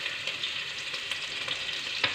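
Ginger garlic paste fries in a pan, a close, steady hiss of sizzling oil with faint stirring taps, even and unbroken throughout; no voices.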